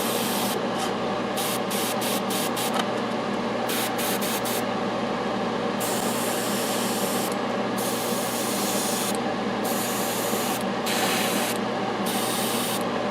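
Air blasts onto a freshly painted miniature in a steady hiss, broken into repeated short puffs and then longer bursts, close and loud with no speech.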